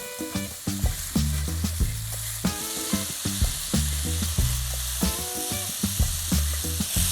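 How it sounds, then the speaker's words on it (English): Vegetables and thyme fry for Caribbean rasta pasta with a loud, close sizzle. Repeated rhythmic stirring knocks and scrapes come about every half second, with no talking. "cook these until the vegetables are nice and softened"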